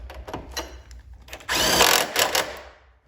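A power tool, likely a ratchet or driver, tightens a bolt on a Fiat 500 Abarth during engine-bay work. The bursts are short, close and whirring, with a longer spin near the middle.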